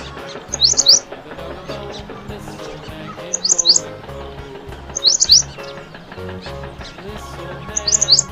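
A bulbul gives four short, bright bursts of chirping at even intervals over a steady musical backing.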